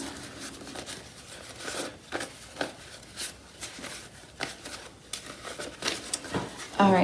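Paper money is shuffled and handled by hand while being sorted into savings challenges, a steady run of close, crisp rustling and flicking with irregular louder crinkles throughout.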